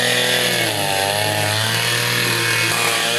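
A new grass cutter runs continuously at close range, a loud steady two-stroke engine drone with a slight pitch dip and recovery partway through.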